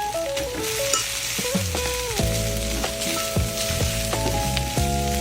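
Rice stir-fried with white onion in a pan makes a continuous bright sizzle, with stirring scrapes throughout and a musical backing underneath.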